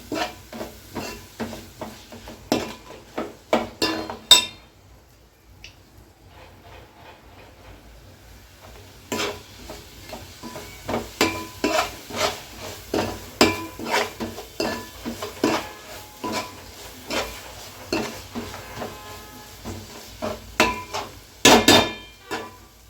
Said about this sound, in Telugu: బాగా కలుపుకుందామండి ఇది.